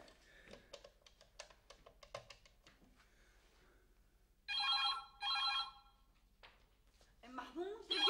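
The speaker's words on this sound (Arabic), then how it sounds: "ام محمود رجع التليفون، ايديني مشغوله" A telephone rings indoors with two loud electronic trilling bursts in a row, preceded by quiet tapping and followed by a person speaking.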